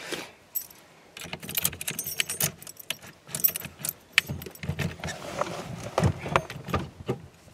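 A bunch of keys jangles and clinks in irregular bursts close by while an ignition is changed on a Chevrolet S-10 pickup, with soft handling noises between.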